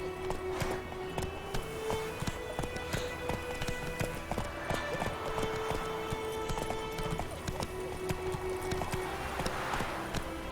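Roach, the horse in The Witcher 3, moving at a steady pace: continuous rhythmic hoofbeats with clip-clop texture and light tack jingle under game ambience, even and moderately loud throughout.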